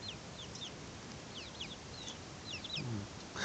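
Chicks in a brooder fitted with wooden perches peep and cluck faintly, scattered high chirps coming in small clusters over a steady background hiss.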